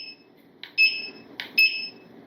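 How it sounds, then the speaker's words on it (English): A UREVO CyberPad smart walking pad treadmill gives two short, high electronic beeps in quick succession, each with a brief double-toned chirp, clear and close in a quiet room. "We can mute it so it doesn't beep."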